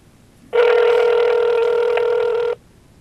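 A telephone line on speakerphone during a prank call, giving one loud, steady electronic ring tone that lasts about two seconds before cutting off abruptly, with no voices.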